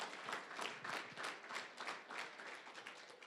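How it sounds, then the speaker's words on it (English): An audience at a college scholarship event applauds, a soft, even patter of many hands heard from a distance and fairly faint throughout. "please clap for that"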